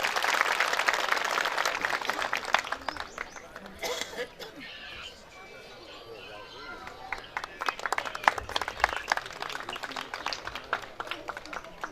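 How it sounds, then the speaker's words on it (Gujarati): An audience at a Morari Bapu katha applauds to welcome him, with bursts of clapping that rise and fade. A speaker's voice and crowd noise run alongside. "પર જોરદાર તાળીઓ થવી જોઈએ"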